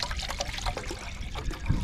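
Water pours into a camping pot at a wild camp in strong wind, a short, close trickle and splash lasting under two seconds.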